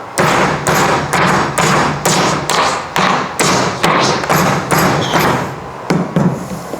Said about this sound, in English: we'll get out the power sledge, you know, the power driver